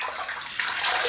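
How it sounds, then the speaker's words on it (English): Water splashes steadily at a bathroom sink as hands wet a face before shaving, a continuous close, bright hiss of running and splashing water with no talking. "I'll just wet my face."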